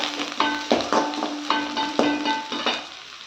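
Onion and green chilli sautéing in a pan for curd semiya, with a utensil repeatedly clinking and scraping against the metal over a faint sizzle, close and moderately loud.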